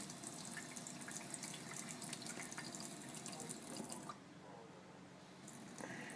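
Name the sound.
hot water running from tap in a thin stream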